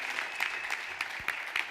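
A church congregation claps during a Friday service, the claps landing as a steady rhythmic run of sharp beats at moderate volume, with no voices over them.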